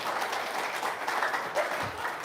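An audience applauds at a talk, a dense, steady wash of clapping hands from a crowd, fairly close and sustained for a couple of seconds.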